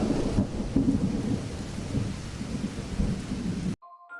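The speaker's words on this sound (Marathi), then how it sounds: "तेव्हाच वीज लखकन चमकली आभाळातून उडी घेत पहाडावरच कुठेतरी कोसळली रात्रभर पाऊस वाऱ्याचा धुडगूस सुरू राहिला" A thunderstorm sound effect in a Marathi murder-mystery audio drama: continuous heavy rain with low rumbling thunder and wind, loud and steady, cutting off abruptly near the end with a faint tone.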